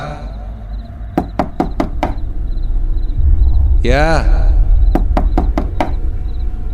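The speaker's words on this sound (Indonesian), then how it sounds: "Saat aku akan kembali untuk tertidur, tiba-tiba ada yang mengetuk pintu kamar." Knocking on a bedroom door in the horror video game Nightmare Side: two bursts of five sharp, evenly spaced raps separated by a pause, heard over low rumbling ambience, with a brief voice between the sets.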